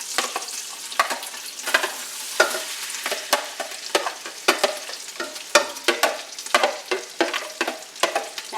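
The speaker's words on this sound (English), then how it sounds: "we're going to toss in our veggies" Vegetables sizzle and crackle in a hot pan with leftover juices while being stirred for a Louisiana gumbo, with frequent scraping clicks and steady frying hiss, close up and with no talking.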